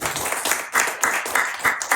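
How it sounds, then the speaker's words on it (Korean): Audience applause at a public lecture, a steady two-second burst of many hands clapping together with no talk over it. "박수 한번 쳐주세요."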